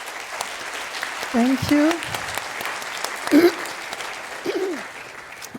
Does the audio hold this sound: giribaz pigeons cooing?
no